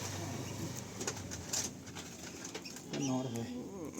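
Pigeons, including young birds, coo softly in a pigeon loft while people talk over them, with a few faint flutters and calls mixed into the chatter.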